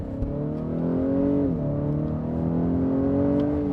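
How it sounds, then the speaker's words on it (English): A 2025 Acura RDX Platinum Elite A-Spec SUV accelerates on a winter road, its engine rising in a steady, loud drone with a brief dip as the gear shifts, then climbing again, heard close from inside without speech. "let's give it some gas"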